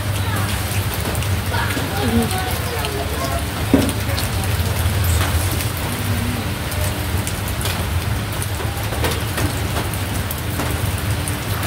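Rain falls steadily in a continuous hiss on surfaces, with a low hum underneath and occasional faint voices in the background.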